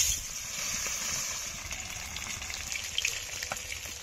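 Ritha fish sizzling in hot oil, a steady crackling hiss of frying that runs the whole time at moderate level with scattered pops, no speech over it.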